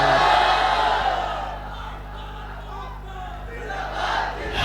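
Large crowd at a book fair opening and award ceremony shouting the takbir in unison, a loud sustained roar of voices over a steady low hum.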